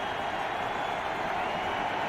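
Broad, even crowd roar fills a football stadium as Broncos fans make noise against the Buccaneers in 2012, a continuous dense wash of many voices with no single voice standing out.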